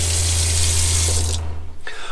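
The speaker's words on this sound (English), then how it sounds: "we have our 12-volt SureFlow pump to create a steady stream of water" A 12-volt SureFlow water pump in a converted Promaster van drives a steady stream of water into the sink, a hissing splash over a low pump hum that cuts off abruptly, leaving brief quiet and a short trickle.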